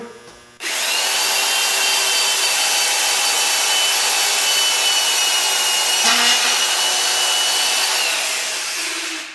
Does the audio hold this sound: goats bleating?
no